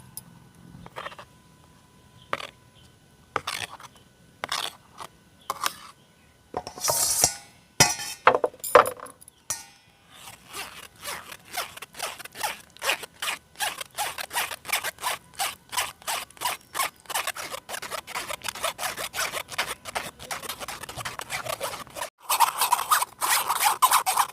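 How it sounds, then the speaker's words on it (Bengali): Palm fruit pulp pressed and strained through a sieve, heard as sparse scrapes that settle into a quick, steady run of rhythmic scraping strokes close by, with no talking. "তাই এই পাল্পটাকে আমি একটা ছাঁকনিতে ছেঁকে নেব।"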